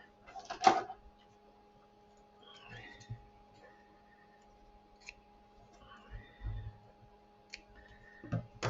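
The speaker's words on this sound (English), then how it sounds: "I'll just get my scissors and cut." Scissors snip through ribbon on a tall milk-carton gift box craft: one sharp, close cut near the start, then faint clicks and handling noises in a quiet room.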